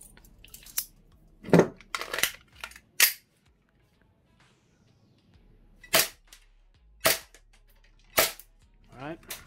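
Umarex Glock 19X airsoft pistol firing BBs: several sharp, loud cracking shots at irregular spacing, some in quick pairs, with near silence between them.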